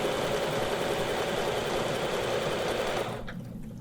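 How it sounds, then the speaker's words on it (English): A sewing machine stitches a diagonal line across a quilt, guided by Westalee ruler-work, with a steady, close, rapid mechanical whir that runs unbroken and then cuts off sharply near the end. "I'm going to stitch diagonally down to that."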